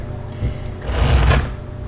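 A brief riffle of tarot cards being shuffled, a soft papery flutter lasting under a second, close by in a quiet room.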